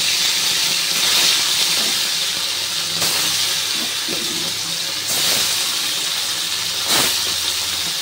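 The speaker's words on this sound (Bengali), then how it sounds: "এরপর বাকি যে কটা মাছ আছে এগুলো তেলের মধ্যে দিয়ে দিচ্ছি।" Bata fish frying in hot oil gives a loud, close hissing sizzle that swells in a few bursts as pieces go in, with faint clinks of utensils underneath.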